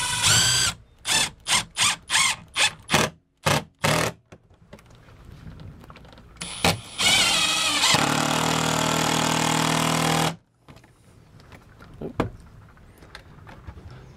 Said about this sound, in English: I'm gonna go ahead and shoot a couple screws in.